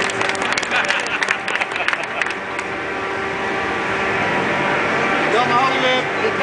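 Clapping for youth sailors at an outdoor prize ceremony, a loud burst at the start that fades into crowd chatter and background outdoor noise.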